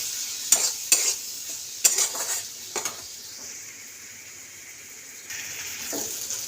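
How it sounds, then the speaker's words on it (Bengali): Spices and salt stirred together in a pan for a fish curry, with several sharp scraping clinks of a utensil against the metal in the first seconds, then a faint steady sizzle, close and without talk. "তার সাথে নুন, এবার ভালো করে এটাকে মিলিয়ে নেব।"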